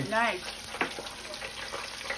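Seitan pieces crisping in a hot pan give a steady broadband frying sizzle with small crackles throughout, fairly close, while a person speaks briefly over it.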